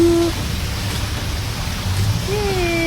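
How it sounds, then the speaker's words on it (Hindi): Heavy rain falling during monsoon weather, a dense continuous hiss of downpour with faint tonal sounds drifting over it and no speech. "फुल बारिश हो रही है, बाहर पानी भर चुका है, बारिश चल रही है।"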